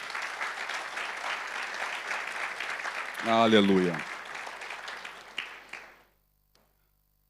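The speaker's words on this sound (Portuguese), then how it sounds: "E dê um aplauso bem forte ao Senhor." Applause from a church congregation rolls on, briefly overtopped by a shouted voice, then fades out into silence.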